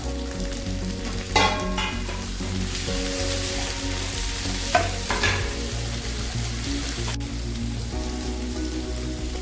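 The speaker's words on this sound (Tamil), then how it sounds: "தக்காளி ஒரு நாலு மீடியம் சைஸுங்க இது போல் கட் பண்ணி எடுத்துருக்குறேன் இதுவும் போட்டு வதக்கிக்கலாம்" Four medium tomatoes, cut up, sauté in a hot pan with a steady, dense sizzle and crackle, broken by a couple of scraping stirs, close and continuous.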